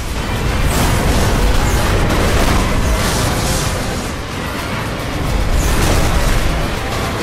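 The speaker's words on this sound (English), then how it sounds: "It feels fast, it's got explosions galore" Explosions in the racing video game Split Second: a continuous, loud barrage of booming blasts and rumbling debris layered with engine roar, dense and sustained with slight swells in intensity, without speech.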